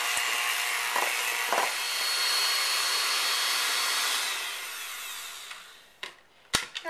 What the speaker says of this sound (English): And now I'm going to completely mix it all together.